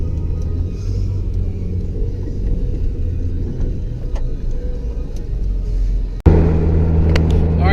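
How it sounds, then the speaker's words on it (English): A four-wheel-drive pickup truck rolls downhill off-road with a steady low engine rumble and road noise from inside the cab, with a brief dropout before the rumble returns slightly louder. "So now we're doing a little off-road action, a little downhilling."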